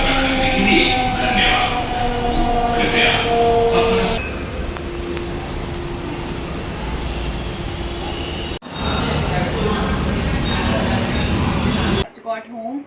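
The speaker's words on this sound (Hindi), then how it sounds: "सरोजनी के बाद जब हम मेट्रो में थे" Metro train riding after shopping in Sarojini Nagar, Delhi: a steady loud rumble of the moving carriage fills the whole stretch, with tonal whines and a brief dropout near the end, while music plays over it early on.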